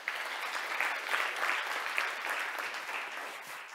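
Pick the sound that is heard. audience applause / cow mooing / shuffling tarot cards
audience applause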